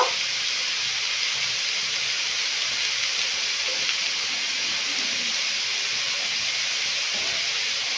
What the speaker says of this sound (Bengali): বন্ধুরা একে একে সব মশলাগুলো আমি ভেজে নেব বেশ ভালো করে